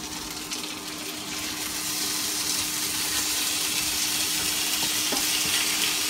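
Beef sizzles and fries steadily in a hot pan with garlic and onion, a continuous close, loud hiss that grows slightly fuller after the meat settles in, with no talking.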